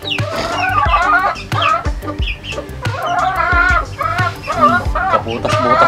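Native chickens cluck repeatedly and close by in a rural yard setting, with overlapping calls and short squawks forming a busy, irregular chorus.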